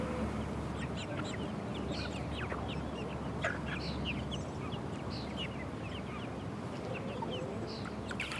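A flock of pastured farm chickens clucking and chattering continuously at a moderate distance, with scattered calls over a steady outdoor background hum.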